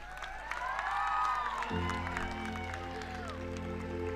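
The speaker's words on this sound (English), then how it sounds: "Please give a huge round of applause to all the MBBS graduates." A graduation-ceremony crowd applauding MBBS graduates, with dense sustained clapping and some cheering in a large hall, while music and voices carry over it.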